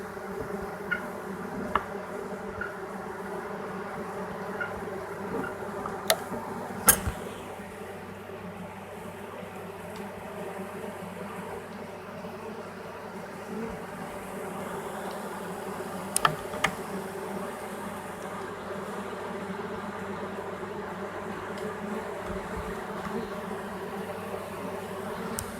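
A swarm of honey bees buzzes steadily while marching into a swarm box, a soft, continuous droning hum close by with a few sharp knocks and clicks scattered through it, and no talking.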